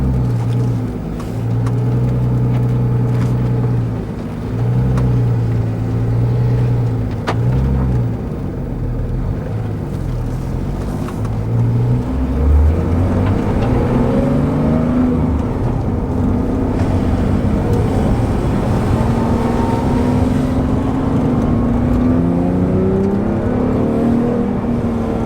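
A Porsche 911 R flat-six with its exhaust valve closed hums steadily, rising in pitch as it accelerates through gears, with a sustained engine drone from inside the car.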